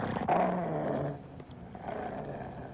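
A dog growls in a scene from the horror film Hellraiser, a low, sustained rumbling snarl that is loud in the first second, then fades into a quieter, rough background.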